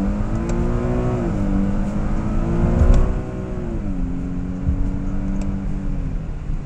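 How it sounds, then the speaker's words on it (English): A 2011 Infiniti G37 IPL engine revs hard under full throttle, its pitch climbing and briefly dropping at gear changes, loud and close. "I'll do a full throttle test run here."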